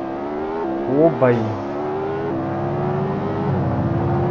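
A car engine accelerates in the mobile driving game Extreme Car Driving Simulator, its tone sweeping up sharply and then settling into a steady drone, while someone speaks briefly over it.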